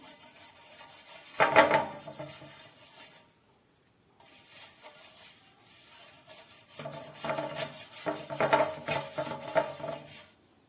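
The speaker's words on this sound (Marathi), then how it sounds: "तेलाने छान हे असं ग्रीस करून घ्यायचंय।" A hand rubs oil over a metal plate to grease it for peanut chikki, giving soft, close rubbing and scraping sounds in two stretches separated by a short pause.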